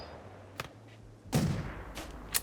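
Gunfire from colonists in the Rimworld game: a faint single shot early, then a louder burst of shots midway and a couple more sharp reports near the end, over a quiet background hum.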